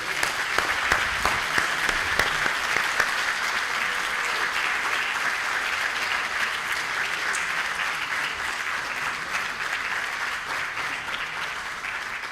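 Applause for team Portugal at a skating closing ceremony, a big crowd clapping loudly and continuously, with a few sharp claps near the start before settling into a steady, even roar.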